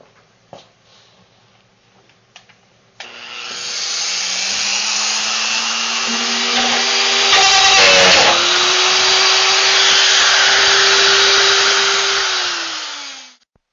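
A Rotozip spiral saw cuts a 3.5-inch hole in a plastic barrel: a few clicks, then a loud high-pitched whine and grinding rasp that holds for about ten seconds before winding down.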